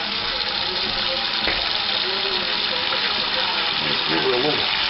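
Water runs steadily from a tap while a brewing bucket is rinsed out during beer kegging, a continuous close splashing and gushing with slight shifts as the stream hits the plastic.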